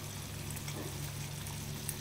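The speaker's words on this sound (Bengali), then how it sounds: "এবার আমি গরম জল দিয়ে দেবো" Hot water pours into a pot of Bengali dhaba-style mutton curry, a soft, continuous rushing pour at low volume with no talking.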